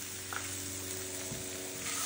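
Charred Brussels sprouts, just tipped into a bowl beside pickled apricots, give off a steady, soft sizzle with faint crackles throughout.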